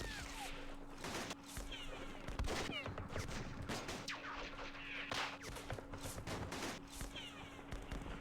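Rapid bursts of gunfire crackle at moderate distance in a World War II Eastern Front strategy game, arriving in irregular volleys over a steady low hum, quiet overall.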